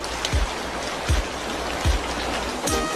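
Steady rain falls with a dense, even patter, broken by a few soft low thuds at regular intervals, heard close with no voices.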